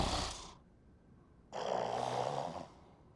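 A woman snores in a comedy scene: a short breathy exhale, a pause, then one long, rough, rasping snore close by.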